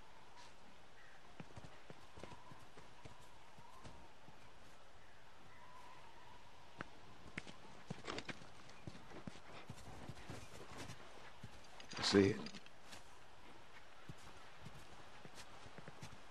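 Horse hooves clip-clop at a slow walk in The Last of Us, the soft scattered steps faint under game ambience, with a brief louder burst near the end and a short spoken line.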